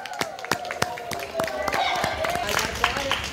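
News presenters clap their hands for Dona Irma, a short burst of sharp, close, fairly quick claps that thicken into light applause.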